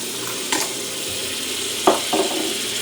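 Butter and brown sugar sizzle and melt in a pan over medium-low heat, a steady soft frying hiss broken by a few light spoon scrapes and taps, close and without talk.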